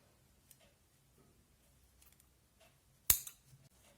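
Scissors snipping thread, a single crisp close cut rising out of near silence after faint handling sounds.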